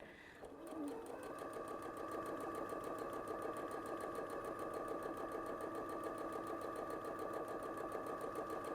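Sewing machine stitching fabric for a scrunchie runs close and steady, its rapid rhythmic needle chatter and motor hum continuing unbroken for several seconds at moderate volume.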